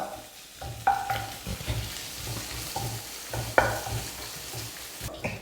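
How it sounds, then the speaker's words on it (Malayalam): Five crushed garlic cloves and ginger frying in oil in a pan, stirred with a spoon: a steady soft sizzle with irregular scraping strokes and a few sharper clinks against the pan. "അഞ്ച് കഷ്ണം വെളുത്തുള്ളി ചതച്ചത് ഇഞ്ചിയുടെയും വെളുത്തുള്ളിയുടെയും പച്ചമണം മാറുന്നവരെ നന്നായിട്ട് ഇളക്കി കൊടുക്കാം"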